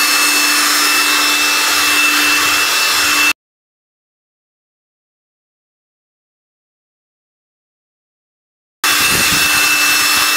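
An Electrolux car vacuum cleaner runs with a steady, hissing whine and a faint tonal hum, then cuts out for several seconds of silence before starting up again.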